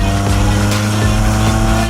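A loud Acura Integra DC2 engine, about 130 horsepower, roars continuously at high revs, a dense mechanical drone filling the whole moment.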